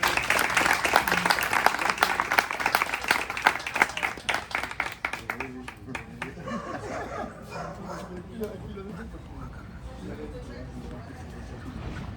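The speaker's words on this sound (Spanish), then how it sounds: "vamos a darle un aplauso para que venga." Audience applause at a book presentation for "El gran Zacamandú", welcoming Maestro Robledo: dense clapping for several seconds that thins out, with murmuring and a few voices talking underneath as it fades.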